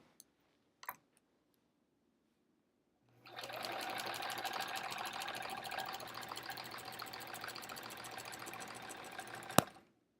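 A sewing machine stitching in the ditch while quilting a sampler quilt starts after a few faint clicks, then runs as a steady close whirring stitch for about six seconds before stopping with a sharp click.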